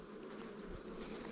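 Bees buzz around a honeybee hive where a small bumblebee has wandered in, a soft continuous droning hum close by, with a slight rise in the middle.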